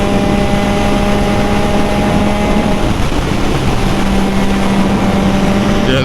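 A 2022 Triumph Trident 660 motorcycle engine runs with a loud, steady drone and tonal hum, holding near and constant without clear gear changes.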